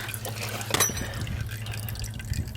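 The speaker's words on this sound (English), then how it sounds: "Draining my transmission fluid." Transmission fluid drains from a T850 transmission during a repair for a broken input shaft bearing, a steady close liquid stream with soft dripping and trickling, no talk.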